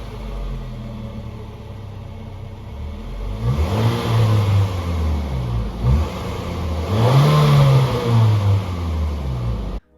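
A Honda car with a small exhaust and a 1.5-liter engine revs up twice from a steady idle, each rev climbing in pitch and loudness before falling back, heard close up.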